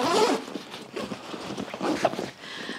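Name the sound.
zipper opening on Lowepro ProTactic BP450 AW II camera bag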